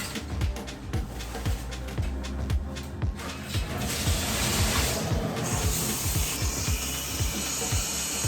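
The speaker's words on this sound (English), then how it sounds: "Salt scrub once a week." A coarse salt scrub is rubbed across skin in close, quick, repeated strokes. The gritty rubbing goes on rhythmically and then turns into a steadier hiss.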